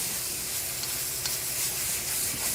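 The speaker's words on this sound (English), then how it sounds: "so we're just gonna stir fry it real quick." Meat sizzles hard in a hot, smoking stir-fry pan, a loud dense hiss with small crackles and stirring shuffles throughout, close and unbroken.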